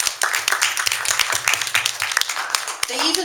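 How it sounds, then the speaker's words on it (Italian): An audience claps at the opening ceremony of the San Patrizio festival in Livorno, dense applause with sharp individual claps throughout and speech mixed in toward the end. "E Catherine ha chiesto e ottenuto un applauso che richiedo e otterrò anch'io adesso per Giacomo e tutta la gente dell'Ex-Cinema Aurora."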